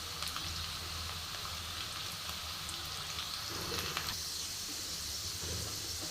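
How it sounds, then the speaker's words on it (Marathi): Sliced onions frying in a pan for vegetable biryani, a steady broadband sizzle and crackle running evenly throughout with occasional brief pops, no talking. "कांदा आपला व्यवस्थित भाजून झाला आहे."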